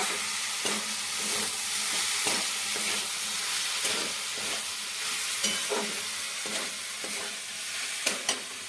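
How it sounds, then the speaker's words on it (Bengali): Banana flower curry being stirred with spices in a pan, a steady close sizzle and hiss of frying with scraping stir strokes recurring every second or so, no voices. "এটা মশলা দিয়ে এরকমভাবে নাড়বো"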